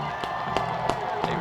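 Home crowd at a UW Whitewater Warhawks college football game against UW La Crosse, a steady roar of cheering with periodic sharper swells and claps.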